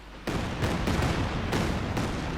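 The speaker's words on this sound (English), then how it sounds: "there you go, another Calliope barrage" Calliope rocket artillery barrage in Company of Heroes 2, a rapid string of loud booming blasts and crackling impacts piling up over about two seconds, with no voices.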